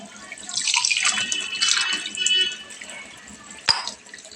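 Water is poured into a cooking pan with raw tamarind, a soft, steady splashing trickle that swells and fades over several seconds, ending with a sharp clink near the end.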